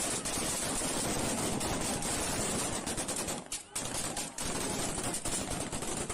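Russian troops fire into the air in Kherson during a protest, a dense, harsh stream of distant gunshots and crackle with brief gaps, blurred by heavy distortion, with voices faintly underneath.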